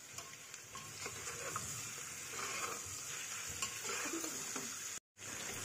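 Boiled mutton being lightly sautéed with spices in a pan, with continuous stirring scrapes and a soft steady sizzle close by, no talk over it.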